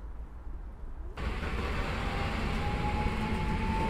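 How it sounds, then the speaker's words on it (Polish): Long-distance passenger train pulling out of a Warsaw station on wooden-sleeper track, a quiet start giving way to a steady loud rumble with a faint rising tonal whine, no voices. "Rusza Alicja z Błonia do Dęblina."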